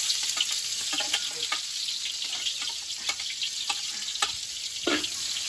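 Onions fry in hot oil in a pan, a close, steady hiss with frequent sharp crackles and pops.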